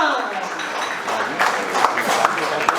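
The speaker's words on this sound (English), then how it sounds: "Can we have a round of applause for everyone?" Applause with scattered claps and light crowd noise at a corporate partnership event between an electronics firm and a technology company, building and holding steady, with voices talking through it.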